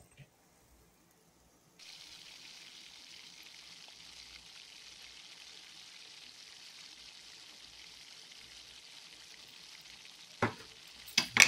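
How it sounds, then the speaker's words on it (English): An egg mixture poured into a pan with sausage and bacon starts a steady, hissing sizzle that continues evenly, with a few clanks of a utensil near the end. "I'm going to add my egg mixture."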